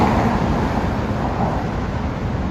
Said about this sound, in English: And see traffic just zooming along.